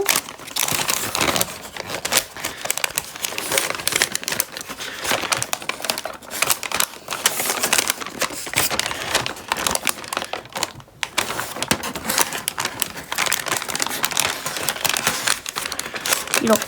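A single sheet of paper is folded into an origami peacock, with continuous crisp crinkling, creasing and rustling close by and loud throughout.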